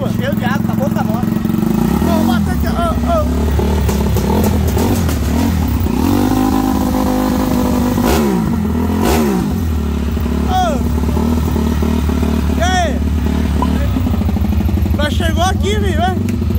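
A motorcycle engine rattles and revs repeatedly up close after riding through rain and standing water, loud rising and falling throttle bursts over a clattering idle, with some speech in the background.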